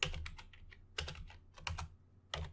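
Someone types a command on a computer keyboard at a command prompt, giving quick bursts of close, crisp key clicks in short groups with brief pauses between them.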